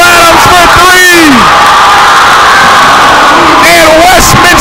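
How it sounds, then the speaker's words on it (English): A women's college basketball crowd at Westminster's home game against WashU bursts into loud cheers, whoops and yells after a go-ahead three-pointer, with a commentator's excited voice over the roar and a second swell of shouting near the end. "The crowd erupts."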